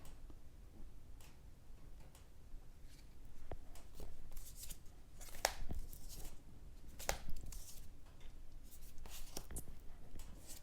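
Mini pocket-size Mystical Shaman tarot deck being shuffled by hand, a soft continuous riffle of card edges with brief sharper snaps, close and fairly quiet, with no talking.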